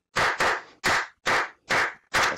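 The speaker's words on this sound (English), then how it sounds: "Hey, clapping by Drew" Six sharp, loud hand claps from one person, spaced in an uneven rhythm across a couple of seconds, each a distinct close burst with no talking.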